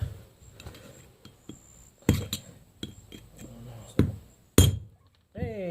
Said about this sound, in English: take a hammer and a screwdriver and just knock it the rest of the way out